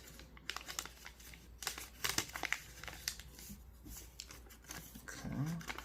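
Paper being folded and creased into an origami dinosaur, close crinkling and rustling in irregular bursts, with brief soft background sounds.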